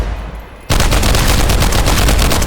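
Rapid automatic gunfire from a compensated weapon in the game Contractors Showdown bursts in loud and close after a brief quiet lead-in, a dense steady stream of shots with no talk.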